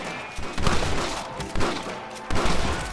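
Gunfire in a Red Dead Redemption shootout: several heavy, booming shots and rapid volleys in clusters, some close and punchy, over a noisy background.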